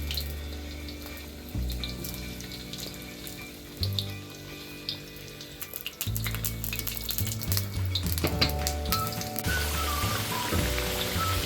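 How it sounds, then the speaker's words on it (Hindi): Potatoes sizzle and fry in a pan for a dish of spiced potatoes in yogurt, with a steady close hiss and sharper crackles as the pieces are stirred, clinking now and then against the pan. "अब आलू में इसमें डाल दूँगी फ्राई करने के लिए।"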